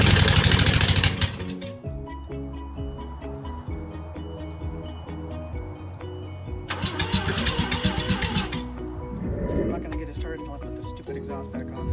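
A Mazda RX-7 engine cranking on starting fluid, with loud bursts of broadband noise at the start and again midway, rough uneven firing between them, and talk over it.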